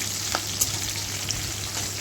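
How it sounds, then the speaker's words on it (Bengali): Chopped onion and two green chillies frying lightly in a pan for a jackfruit curry, giving a steady, even sizzle with a couple of soft stirring clicks and no voices. "এটাকে এবার হালকা করে ভাজতে হবে। সামান্য ভেজে নেব।"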